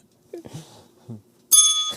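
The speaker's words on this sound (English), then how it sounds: "There's our bell." A doorbell rings with a bright, sustained chime near the end, preceded by a few brief, quiet voice sounds.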